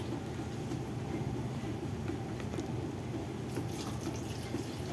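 Water pours steadily into a pot of coconut milk for a taro-vegetable dish, a continuous close splashing and trickling that runs without a break and grows slightly brighter toward the end.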